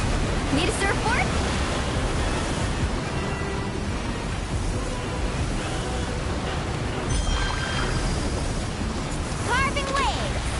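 Crashing, churning water from a surfing attack in the video game Genshin Impact roars as a loud, continuous wash of surf noise, with brief swooshing effects and voiced combat shouts layered on top.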